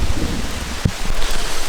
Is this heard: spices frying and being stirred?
no